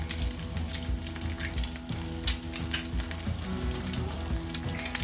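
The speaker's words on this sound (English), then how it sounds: "Kind of neat watching it fry," Continuous close-up sizzle of an egg frying in a pan with scattered pops and crackles, steady and fairly quiet, with no talking.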